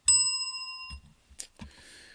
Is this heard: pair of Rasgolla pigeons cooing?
no